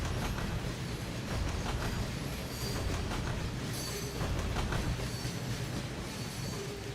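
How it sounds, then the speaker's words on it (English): Rail track rumble from Trainz Railroad Simulator 2022, a train running over track on the Birmingham East End with steady low rolling noise and faint clickety-clack wheel beats throughout, alone without talk. "The wonderful, wonderful people over at Trains Forge came out with new track sounds"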